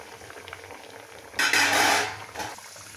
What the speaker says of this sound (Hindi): देखिए तेल अच्छी तरह से हमारा गर्म हो गया है। अब इसमें चंद्रकला को डालना है।